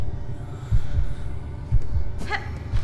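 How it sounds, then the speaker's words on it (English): Low, muffled heartbeat thuds from Silksong repeat at a slow steady pace, roughly one double beat each second, under a quiet ambient hum with a brief chime-like flourish partway through. "I hear the heartbeat sound here"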